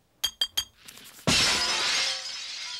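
Glass shatters in a Rocko's Modern Life cartoon scene: three quick light taps, then a loud crash of breaking glass followed by a long bright tinkling tail of falling shards.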